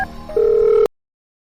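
An outgoing telephone call gives a single steady ring tone that lasts about half a second and then cuts off sharply into silence, heard up close over faint background noise.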